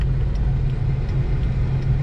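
Weekend street traffic: cars and engines rumble steadily past at close range, a constant low roar with no break for the whole stretch.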